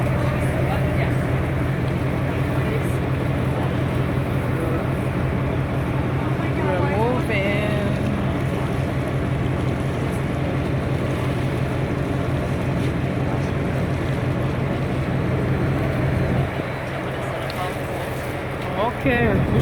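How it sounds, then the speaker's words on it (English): Glass bottom tour boat moving off Fort Lauderdale Beach, a steady loud low engine drone with wind and water wash throughout, a few faint chirps over it and a slight drop near the end. "Boat is moving. Glass bottom tour. Fort Lauderdale Beach."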